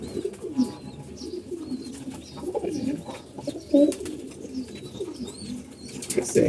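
A pigeon coos near its eggs in a loft, repeated low throaty calls over a steady murmur, with other birds chirping faintly in the background.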